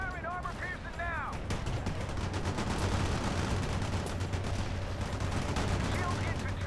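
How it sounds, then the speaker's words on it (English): Armor-piercing rounds fire in World in Conflict, a dense, continuous barrage of loud gunfire and explosions with a low rumbling battle drone, while a voice speaks briefly at the start. "Firing armor piercing now"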